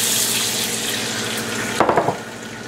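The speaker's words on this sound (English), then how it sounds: "And now we deglaze the skillet with a cup of coffee." A cup of coffee poured into a hot skillet to deglaze it after the surplus oil is poured off, a steady hissing rush that breaks into a short bubbling sizzle near the end.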